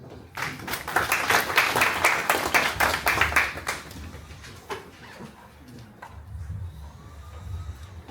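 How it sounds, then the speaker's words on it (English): An audience at an inauguration ceremony applauds, clapping densely for a few seconds before the clapping thins out and fades away. "Another round of applause, please, for the professor."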